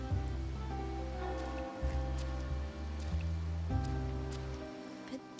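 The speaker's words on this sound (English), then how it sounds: "Today's rain feels different." Rain falls steadily in the video game Wuthering Waves, a soft, even patter beneath a low sustained musical drone, fairly quiet and without any talking.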